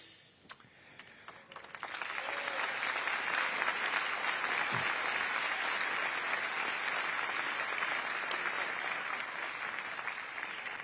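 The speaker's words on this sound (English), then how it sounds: "When I pause, it's because they're clapping" An audience at a business forum breaks into sustained applause that builds quickly and holds loud and dense, with scattered whoops over the clapping.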